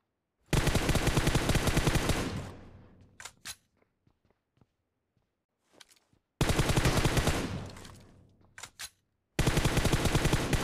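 Gunfire in the PUBG battle royale game on the Erangel map during a quick match: two long, loud automatic bursts with scattered single shots and clicks between them, close up and with no talking.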